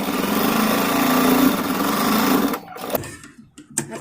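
Sewing machine stitching blouse fabric, a loud close rapid mechanical hum for a few seconds that stops abruptly, followed by light handling clicks and rustles.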